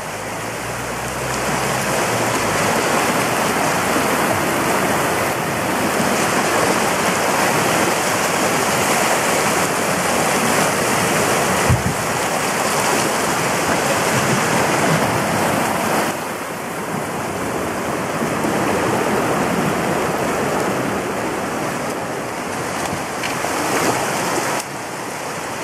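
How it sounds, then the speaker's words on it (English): A flooded river in Calderdale, Yorkshire roars loudly and continuously against a bridge, a dense, unbroken rush of water close by. "this is why it's flooding here, because the river can't get under the bridge"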